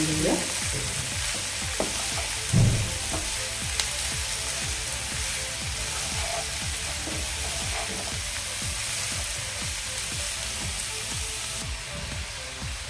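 Cabbage and masala spices are stirred in a frying pan for cabbage bhaji, giving a steady sizzle with repeated scraping strokes of a spoon, close and alone with no talk.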